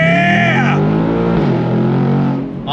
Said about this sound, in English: we're gonna accelerate from a dead stop here.